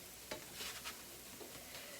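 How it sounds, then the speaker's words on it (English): Cornbread batter fries in hot olive oil in a pan, a very faint, quiet sizzle with a few soft stirring clicks and no voices. "But I'm frying it in olive oil."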